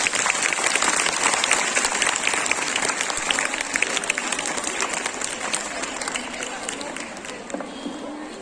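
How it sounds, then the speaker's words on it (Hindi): Sustained applause from students at a school event welcoming a guest speaker, many hands clapping in a fast, even patter that fills the room and fades gently toward the end, with faint voices underneath. "आज जोरदार तालियों के साथ स्वागत कीजिए सत्यम द्विवेदी"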